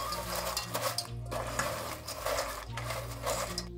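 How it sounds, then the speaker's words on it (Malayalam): Boondi stirred into sweet syrup in a pan over a low flame, a steady scraping and sloshing against metal over a continuous low hum, with no talking. "ഇനി നമുക്ക് ഫ്ലെയിം കുറച്ച് വെച്ചിട്ട് ഇതിലേക്ക് പൂന്തിയിട്ട് കൊടുക്കാം. ഇത് നന്നായിട്ട് മിക്സ് ചെയ്ത് എടുക്കുക."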